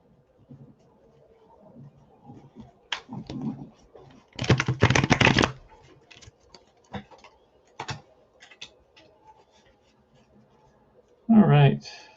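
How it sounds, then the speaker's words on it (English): Playing cards shuffled in quick riffling bursts, crisp and close, amid scattered ticks and soft background noise, with a brief voice at the end, during a play session of Fall Classic Baseball '80. "Do a quick shuffle."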